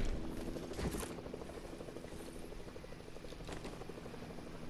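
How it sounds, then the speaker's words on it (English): Helicopter in the Fortnite video game, a continuous rotor drone with pulsing chop and mechanical rumble, moderately close and steady throughout. "Alright, what is that helicopter doing?"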